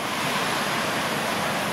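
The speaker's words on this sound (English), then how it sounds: "a thunderstorm today and a lot of rain yesterday has caused this torrent" A flash flood torrent rushing after a thunderstorm and heavy rain near Dicks Dome Shelter, a loud, dense, continuous roar of fast water close by, with no talking.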